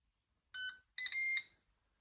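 A Ninja PossibleCooker beeps when its preheat stage finishes: a short electronic tone, then a longer beep after a brief gap. The beeps are clear and close against silence.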